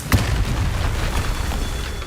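A single sharp, booming Confringo spell blast from Hogwarts Legacy hits right at the start, then fades into a low rumbling game background.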